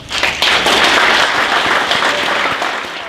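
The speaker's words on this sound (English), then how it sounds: "So give a round of applause." A short, dense burst of applause from a crowd at a volunteer fire department swearing-in and awards ceremony, many hands clapping together at once.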